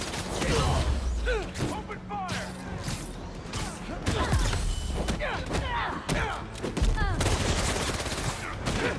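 Gunfire rattles through a Spider-Man 2 video game battle, with rapid volleys and scattered single shots, mechanical clanks and heavy thuds crowding a busy, loud mix while voices shout under the shooting.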